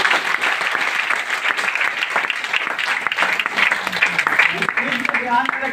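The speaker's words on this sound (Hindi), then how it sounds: "जोरदार ताली।" Loud, sustained applause from an audience at a Hindi-language gathering, continuous dense clapping with crowd noise, and a voice emerging over it near the end.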